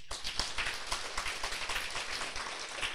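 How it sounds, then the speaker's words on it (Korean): An audience at a Korean business seminar claps for young attendees in their twenties, a dense, even round of clapping from a fairly close crowd lasting throughout. "우리 참석할 20대들 위해서 박수 한번 쳐주세요"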